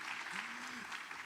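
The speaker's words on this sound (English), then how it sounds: "You may give her an applause." Audience applause at a giftedness and creativity conference, a steady wash of clapping at moderate level, with a brief tonal voice-like sound briefly heard partway through.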